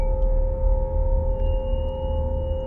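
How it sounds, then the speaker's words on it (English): A steady low droning hum with a vibrating, distorted quality, continuous and even, accompanied by faint high steady tones and no speech. "There's some sort of audio distortion taking place, a droning, hum, a vibration of some kind."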